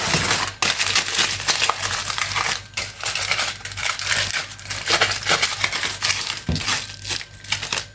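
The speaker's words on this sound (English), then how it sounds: "And then fold it around my foil paper." Foil paper being folded and crinkled around kwacoco for steaming: close, loud crackling and crumpling that runs almost continuously, with brief pauses and sharp crinkles scattered through.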